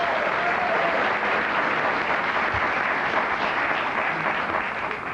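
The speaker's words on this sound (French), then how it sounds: "Pendant un moment, j'ai cru qu'on applaudissait parce que je m'étais levé" Sustained applause from the audience at the Artis award ceremony, a broad even wash of clapping from a large crowd that holds steady for several seconds without letting up.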